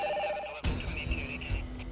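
A telephone rings in a dramatic scene, an electronic ring tone with steady pulsing tones that jumps louder partway through against background music, with no talking.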